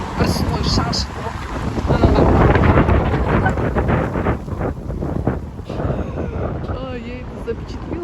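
Strong wind gusts blowing dust roar and buffet a nearby microphone, loud and continuous for the whole stretch, with faint muffled voices underneath.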